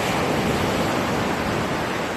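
Big ocean waves surge onto a white-sand beach in rough weather, water reaching up to a seawall, a continuous loud broadband wash of surf with no break and no voices.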